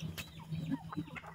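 Domestic chickens cluck softly in a backyard flock near a water container, a few short murmuring clucks close by over a quiet low hum, with no talking.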